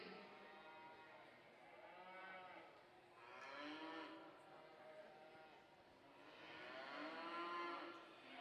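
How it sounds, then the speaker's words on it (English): Several heifers moo and bellow in a livestock show arena, long drawn-out calls rising and falling over about eight seconds, close and fairly loud above a murmuring crowd background. "we bring in your class 3 heifers to the show arena"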